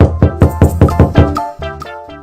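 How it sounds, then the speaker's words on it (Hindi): A door is knocked on in a cartoon with a quick run of about ten close, firm raps in a steady rhythm, heard alone. "इतने में दरवाजे पर दस्तक हुई।"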